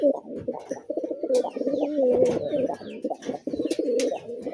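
Several sky-blue Rajgolla pigeons coo continuously in overlapping, rhythmic rolling calls, close and clear with no talk over them.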